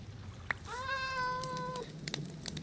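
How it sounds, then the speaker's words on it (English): A Minecraft cat gives a single drawn-out meow, clear and fairly close, with faint clicks and game ambience around it. "There's a cat around here somewhere."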